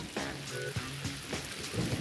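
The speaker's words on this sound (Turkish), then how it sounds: "Gök mü gürledi? Olamaz. Yine mi sağanak yağış?" Heavy rain pours steadily over an outdoor backyard setting, with a few low rumbling swells that suggest distant thunder beneath the constant hiss.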